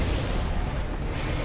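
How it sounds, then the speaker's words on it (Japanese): A big explosion in the video game Earth Defense Force 5 fills the moment with a dense, loud, sustained roaring blast rumble, heavy in the low end and unbroken throughout. "大爆発だ。"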